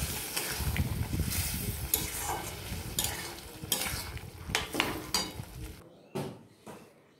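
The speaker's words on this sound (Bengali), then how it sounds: "আমি এবার এর মধ্যে মটরটা ঢেলে দেবো। দিয়ে ভালো করে কষিয়ে নেব।" Peas tipped into hot oil in a pan and stirred for ghugni, with scraping and sizzling, sharp spoon-on-pan clanks and an uneven rhythm, close up, fading to quieter taps at the end.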